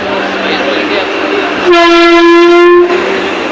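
A Vande Bharat express train near Ahmedabad sounds a long, loud, steady horn blast for about a second, rising out of and falling back into continuous rail rumble and background noise.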